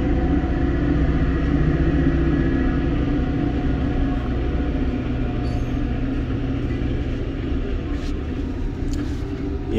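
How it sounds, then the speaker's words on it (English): A train rumbles past on a railroad just behind a hotel, roughly fifty feet away, a steady loud low roar of rolling wagons that fills the whole stretch without letup. "There's a railroad right behind here, unfortunately."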